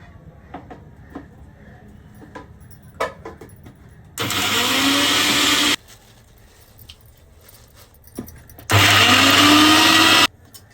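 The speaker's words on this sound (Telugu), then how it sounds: "దాన్ని ఈరోజు నేను మిక్సీకి వేస్తున్నాను." A mixer grinder whirs through henna leaves in two loud, steady bursts of about a second and a half each. Quieter gaps with faint background sounds separate the bursts.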